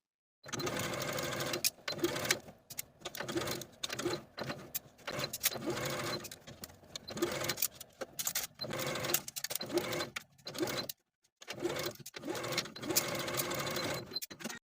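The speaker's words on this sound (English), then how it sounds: "Then I'll sew this inner curve with a 1/4 inch seam allowance." A sewing machine stitches a quarter-inch seam along the inner curve of a flutter sleeve top, running in loud, close bursts of rapid whirring with brief pauses between runs.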